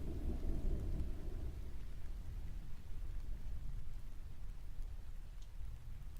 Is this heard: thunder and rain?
yes